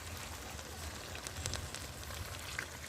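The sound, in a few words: chicken pieces added to hot pan, sizzling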